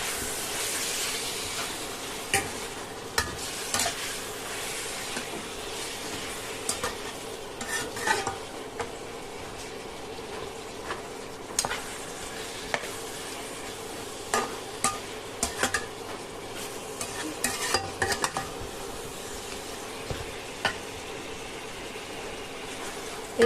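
Marinated mutton sautéed in a pan, with a soft continuous sizzle under repeated scraping and clinking of a spoon against the metal, stirred at an irregular pace close by.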